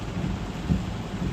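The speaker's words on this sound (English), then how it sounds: "when this much rain comes down out of nowhere" Heavy rain pours down during a sudden storm, a dense, steady low roar with rumbling bursts, like rain hammering surfaces close by, with no voices.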